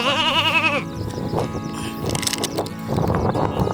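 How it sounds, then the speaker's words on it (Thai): A sheep bleats once, loud and wavering at the start, followed by rustling and shuffling sounds from an outdoor farm visit on a hot afternoon. "ข้างหน้านู้นมีน้องแกะ"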